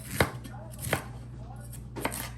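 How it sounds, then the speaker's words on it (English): A very sharp kitchen knife chops vegetables on a board, three distinct sharp thuds spaced well apart over a low steady hum, close and fairly quiet, no voices. "we're cutting up the vegetables"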